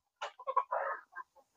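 Free-range village laying hens, about a month old, clucking in a short close burst of several quick calls with brief pauses, no talk over them.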